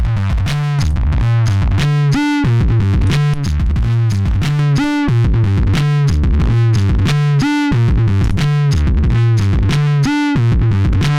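An electric guitar through a two-stage fuzz distortion pedal plays a repeating riff with a thick, saturated tone, loud and continuous with rhythmic chord stabs throughout.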